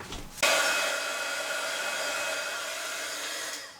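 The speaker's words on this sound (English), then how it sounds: "take your hot gun to that" A heat gun blasts hot air to melt stray glue strands on a handmade layered autumn card, its steady, fairly loud whirring hiss starting abruptly after a short quiet moment and holding evenly to the end.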